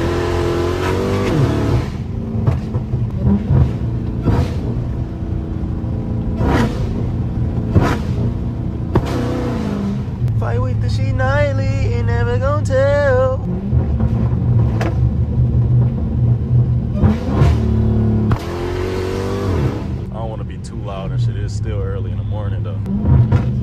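Car on the road with the window rolled down, its engine rumbling and revving steadily under road noise, with voices talking over it throughout.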